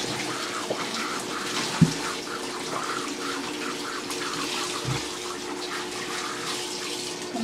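Rohu fish being rinsed under a steadily running tap, water splashing continuously at close range with a couple of brief knocks partway through and no talking.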